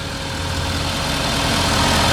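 A 2015 Ford F550 rollback flatbed with a 6.7 diesel engine and active PTO idles nearby, a loud steady low rumble that holds even throughout with no voices.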